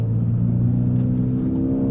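Straight-piped exhaust on a Skoda Fabia 1.2 TSI holding a steady loud drone, a low buzzing engine note close by with no talking.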